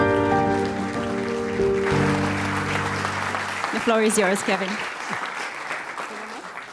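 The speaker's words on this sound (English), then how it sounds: "So please, applause." Conference audience applause swells into dense, sustained clapping after a short spoken introduction, with a voice talking over the end.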